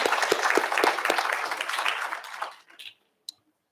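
A school board meeting audience applauds educators, a dense round of clapping that gradually fades and stops, followed by silence and one short late clap.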